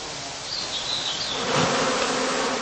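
Honey bees swarm and hum densely around heather skeps in a heathland apiary, a loud, continuous, close buzzing with individual insects whining past.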